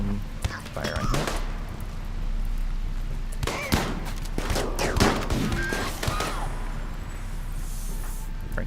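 RimWorld colonists open fire in a fight, with scattered bursts of gunshots, some in quick succession, over game sounds while a person talks.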